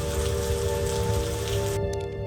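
Heavy rain pours down steadily onto a surface, a loud dense patter of drops that carries on without a break throughout the short stretch, with no one speaking.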